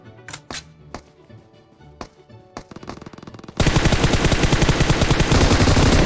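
Gunfire in PUBG Mobile: scattered sharp single shots ring out first, then a loud, dense, continuous burst of rapid fire takes over for the last few seconds.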